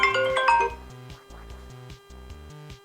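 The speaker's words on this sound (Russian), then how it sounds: "Вот новый рингтон, кстати." A new iPhone ringtone from iOS 26 beta 4, played on an iPhone 11: a bright chiming melody with a few ringing notes at first, then a repeating pattern of short, evenly pulsed tones, clear and close.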